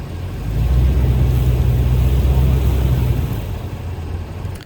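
A stuck car's engine holds steady throttle as its tires spin in place, a low droning rumble that swells, holds for a few seconds and then eases off, heard close.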